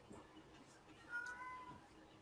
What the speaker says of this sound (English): Can you hear my cat making a ruckus?